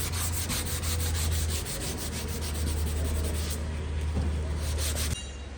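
Steady, continuous coarse sandpaper sanding of an old plastic car headlight, a loud rubbing rasp with rhythmic strokes that stops abruptly near the end.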